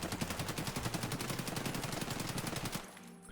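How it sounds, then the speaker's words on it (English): A rifle mag dump in Escape From Tarkov: a long, fast, steady burst of automatic fire that runs unbroken for nearly three seconds, then cuts off sharply into a faint tail. It is loud and alone, with no talk. "let me just mag dump that fella over there"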